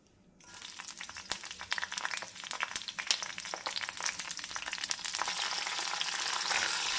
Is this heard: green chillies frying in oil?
yes